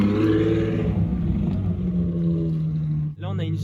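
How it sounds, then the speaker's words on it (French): Ferrari 812 Superfast supercar arriving at a supercar gathering, a loud rising engine drone that holds steady and then briefly dips before resuming, heard nearby under someone speaking. "on a une 812 Superfast qui est en train d'arriver"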